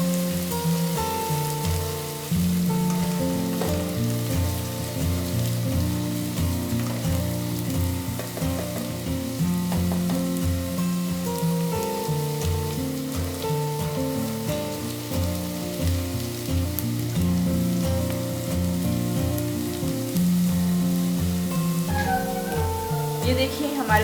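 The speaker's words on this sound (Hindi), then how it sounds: "प्याज हो रहे 3 से 4 मिनट और फ्राई करें।" Chopped onions frying in a pan for a mixed vegetable sabzi, giving a steady, continuous sizzle that runs throughout beneath prominent background music.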